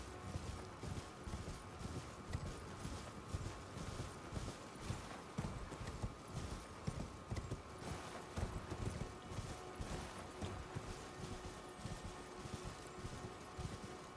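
An enemy rider's horse in the Elden Ring video game pounds along in a continuous, rapid run of hoofbeats, dense and steady throughout, set against busy game ambience with no talk.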